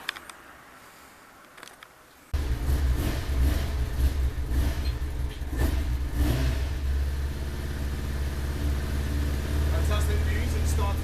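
A 1999 Kawasaki ZX6R motorcycle engine, just given a carburettor clean, catches after a quiet start and keeps running loud and close, a steady rumbling idle with small revs for the rest of the time.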